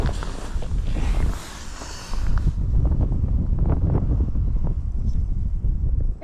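Steady outdoor wind buffeting the microphone on a pike fishing trip, a loud continuous roar with a brief lull, and faint movement noises underneath.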